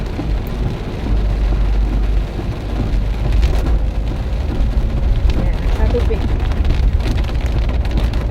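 Heavy rain lashes down with strong wind while floodwater covers the street, making a dense, continuous roar with a deep low rumble underneath throughout.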